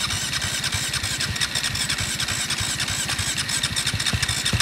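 The engine of a three-wheeler ATV runs with a steady, loud, throbbing putter that continues throughout, heard up close with no talking.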